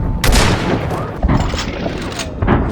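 Shotgun blasts in the video game Hunt: Showdown, several loud booming shots ringing out in a firefight amid dense, continuous gunfire.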